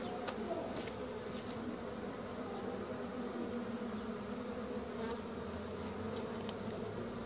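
Honeybees buzz at a hive while frames are moved from a Langstroth box into a ten-frame horizontal hive. Drone brood is emerging. The swarm makes a dense, steady hum that stays close and even throughout, with no talking.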